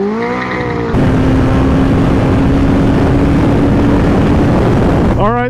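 A four-carburetor motorcycle engine on a test ride roars loud and close, rising sharply after a second into a sustained, steady drone, then cuts off and shifts in pitch at the end.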